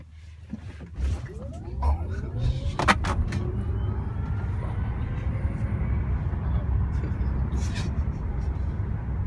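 A Tesla Model P85D electric car accelerates hard from a standstill, building into a steady, loud low rumble of road and motor noise inside the cabin, with a few faint voices early on.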